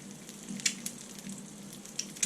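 Breakfast sandwich frying in a pan, a faint steady sizzle with a few brief crackling pops scattered throughout.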